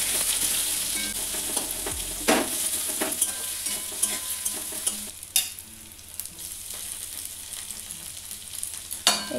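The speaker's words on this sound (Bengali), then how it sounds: "এরপর আমি কুচো করা পেঁয়াজ দিয়ে দিয়েছি।" Chopped onion sizzling steadily in hot oil while being stirred, with scraping utensil strokes and occasional clatters over the continuous frying hiss.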